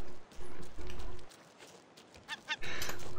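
Bird calls in the ocean survival video game Raft, a few short honking cries breaking through the game's wind and wave noise at moderate level, with gaps of quieter background between them.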